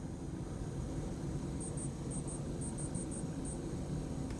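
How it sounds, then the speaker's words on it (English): A Commodore 1541 Ultimate II Plus emits a faint, high, cricket-like chirping during activity, roughly nine short evenly spaced chirps in pairs over a steady hum of background noise. "It sounds kind of like a cricket chirp. Pretty much whenever the light goes out, when there's activity going on."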